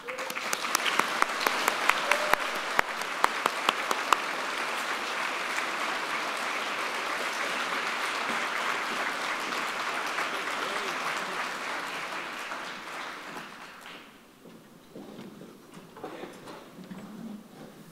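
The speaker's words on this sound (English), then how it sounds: "I would like to all joining me in a big round of applause in welcoming His Worship, Mayor Charlie Clark." A large audience applauds the mayor at the Saskatoon State of the City 2024 event, a dense sustained roar of clapping that holds steady for about twelve seconds, then fades to a few scattered claps.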